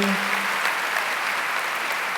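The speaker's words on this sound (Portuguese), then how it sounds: "Vamos aplaudir o Santo Evangelho aqui proclamado com muita alegria, disposição." A church congregation applauds during a Mass, producing dense, steady clapping that fills the space, briefly overlapped at the start by a faint sung or spoken tone.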